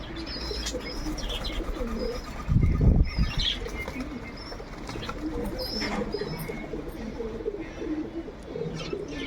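A pigeon flaps its wings in a brief loud flurry while trying but failing to fly, set against soft cooing and chirps from other birds nearby in a steady low background.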